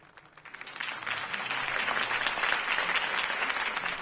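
Applause after a campaign speech swells from a few scattered claps into a dense, sustained ovation from a large crowd, staying loud and even to the end.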